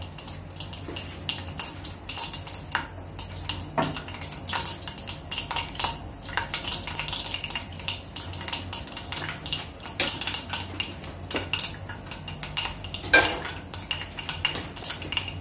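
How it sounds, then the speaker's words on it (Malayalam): Mustard seeds crackle in hot oil in a pan while tempering for banana flower and cowpea thoran, a dense, irregular stream of sharp close pops and clicks lasting throughout. "കടുക് പൊട്ടി വന്നിട്ടുണ്ട്."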